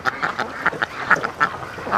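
Free-range ducks, two drakes among six females, quack in a busy cluster. The calls come as short, nasal bursts at an uneven pace, close and fairly loud.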